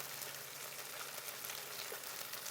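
BBQ chicken frying under a lid in a covered skillet gives a steady, close, even sizzle with no pauses.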